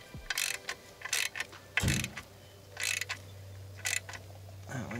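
A torque wrench set to 16 foot-pounds ratchets as clutch bolts are tightened during an Exedy racing clutch and flywheel install on an Eclipse GSX, giving repeated short clicking bursts close by in a quiet workshop.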